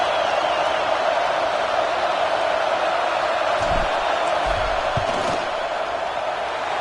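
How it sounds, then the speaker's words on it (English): A football stadium crowd yells and roars during a field goal attempt, a dense, steady wash of noise with a few sharp thumps standing out near the end. "This crowd trying to do its part to get inside the kicker's head."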